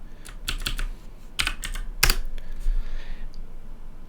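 Keystrokes on a computer keyboard as a short command is typed, several quick clusters of clicks with brief pauses between them, close and clear with no voices.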